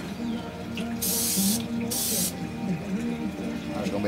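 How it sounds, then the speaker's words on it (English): An aerosol can of silver spray paint gives two short, close hissing bursts while coating an N scale model trailer, separated by a brief pause, with low room noise before and after. "I'm just doing real light sprays."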